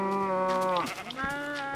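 Sheep in the video game Minecraft bleat in two drawn-out, wavering calls, loud and close, with a brief dip between them and no talking.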